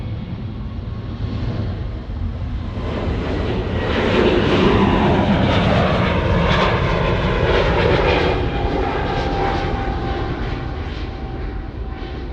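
An Air New Zealand airliner's jet engines build into a loud, sustained roar as it rolls for takeoff at Sydney Airport, swelling midway and holding steady, heard from outside with no talk.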